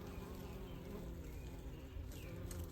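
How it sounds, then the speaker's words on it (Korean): Western honeybees buzzing in and around a trap box hive set high on a mountain, a steady dense drone heard up close and continuously with no talk. "양벌이 들었어요."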